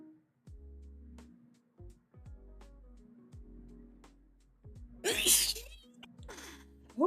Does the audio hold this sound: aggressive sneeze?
yes